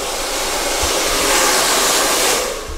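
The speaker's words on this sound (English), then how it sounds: "basically you just dry it into the back, to the crown area" A hair dryer blows steadily and loudly through a haircut, its broad airy roar holding constant while drying hair back toward the crown, with a couple of faint low bumps and no talking.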